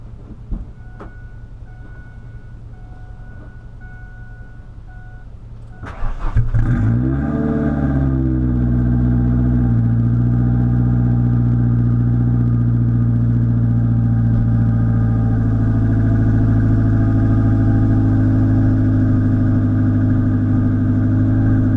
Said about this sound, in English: let's try the cold start again